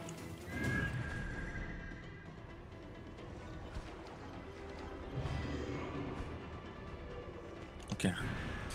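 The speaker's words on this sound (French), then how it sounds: "C'est mon cheval qui fait nimpe." A horse in the video game Assassin's Creed Origins whinnies amid game ambience, with hoof clip-clops and a sharper burst near the end; no one speaks.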